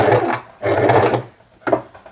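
Sewing machine stitching a bag strap, running in two steady bursts with a pause between them and a brief third run at the end, loud and close with no talking.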